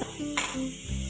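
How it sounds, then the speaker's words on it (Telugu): Chicken frying in a curry pan, stirred with a spoon against the pot: a steady sizzle with scraping and clinking, loud and close, with no talking. "చికెన్ వేసేసి కలిపెట్టేసాను."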